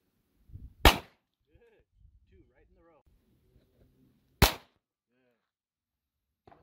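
Two sharp, loud gunshots ring out at an outdoor shooting range in southern Utah, several seconds apart, with quiet talk from an instructor in between.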